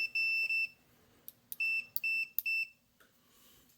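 A digital multimeter in continuity mode beeps while solder joints are probed on a QDX Rev 3 radio kit. Several short, high electronic beeps come in quick, uneven bursts, clear and close in an otherwise quiet room.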